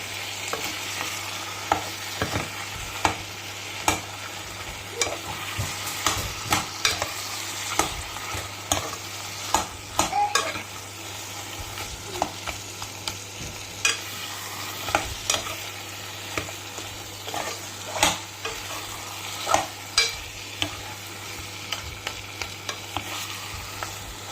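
Food fries steadily in a pan while a utensil stirs and scrapes it, producing irregular clinks and scrapes over a continuous soft sizzle.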